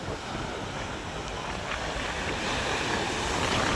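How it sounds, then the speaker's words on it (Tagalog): Heavy ocean waves rumble and crash continuously at a seaside fish terminal in Tanza, Cavite, loud and close, with wind buffeting the microphone throughout. "Kalalaki ng alon. Grabe ang lakas."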